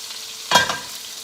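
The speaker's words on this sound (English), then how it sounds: "I'm just going to move this roast over to the pan." A beef roast goes into a fresh pan with a touch of oil and lets out a sudden loud hiss that fades within half a second. Nobody speaks.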